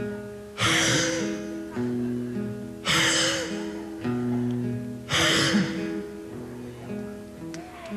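A man imitates someone breathing hard with his voice: three loud, rough gasping breaths about two seconds apart, each trailing into a sighing exhale over a steady low musical backing.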